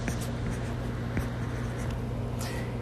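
A hand writes out a math solution, with close, continuous scratchy strokes and occasional sharper taps of the writing tool, and no voices.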